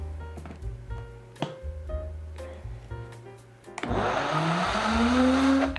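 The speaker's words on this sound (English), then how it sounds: "And then just blend that all together." A blender whirs as it mixes oat flour bread batter made with yogurt and eggs, starting in the last two seconds as a loud, steady, rising motor roar after quieter kitchen knocks and clatter.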